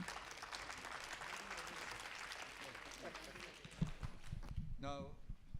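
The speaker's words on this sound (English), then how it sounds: "let us also stand and give him a thunder applause" An audience at a conference session stands and applauds, a faint, dense clapping that fades toward the end, where murmuring voices and shuffling can be heard.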